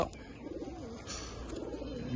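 Giribaz pigeons coo inside a loft, a low rolling coo rising and falling over a soft background of other birds, close and steady.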